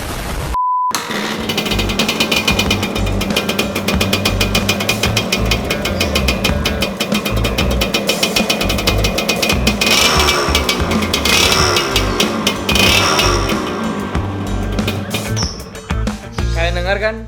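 A stock, unmodified Suzuki Satria 2-stroke engine idles and revs close by, its loud, steady buzzing drone running continuously with a rattly mechanical edge and no talk.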